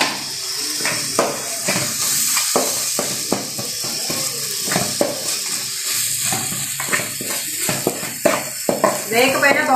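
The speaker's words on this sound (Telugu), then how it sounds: "మసాలా అంతా వేగుతుంది కదా, టమాటా వేసేస్తున్నాను." Spicy mutton masala sizzles and crackles in a pan as tomatoes go in, with a spoon stirring and scraping against the metal in irregular bursts, close and steady under background noise.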